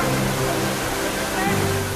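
A tall waterfall about fifty feet high at a Caribbean stop gives a steady, loud rush of falling water that fills the whole clip, with a voice briefly audible over it.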